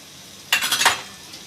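Dried red chillies, urad dal, chana dal and cumin frying in a pan for a raw mango chutney, a short burst of sizzling and stirring that rises sharply for about half a second, then fades back to quiet.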